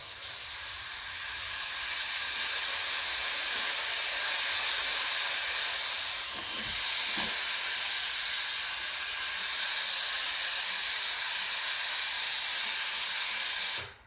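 Steam wand on a Breville Oracle Touch BES990 espresso machine steaming milk, a loud, continuous hiss that holds steady for about thirteen seconds before cutting off abruptly.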